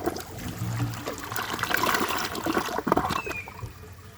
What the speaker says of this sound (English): we can already see that the bowl rinse is good because of the way it flushes